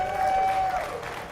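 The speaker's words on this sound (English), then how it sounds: "How about another round of applause?" Audience applause at an Alberta Prosperity Project townhall in Red Deer, a steady wash of clapping that fills the whole moment after a song, fairly close and sustained before thinning slightly at the end.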